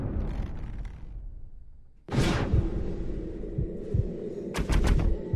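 Fully automatic gunfire in Red Dead Redemption: a rumbling lull breaks into a sudden loud burst, followed by rapid repeated heavy shots and sharp cracks near the end.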